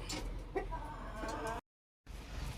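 Hens cluck softly near their eggs in a backyard coop, low and close with a few faint clucks, broken by a brief silent gap.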